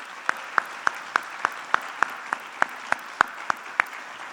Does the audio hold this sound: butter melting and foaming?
no